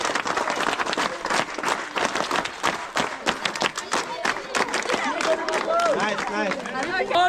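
Students break into a burst of quick clapping for a student who has just won a game, with crowd chatter and voices mixed in before the applause gives way to excited talk.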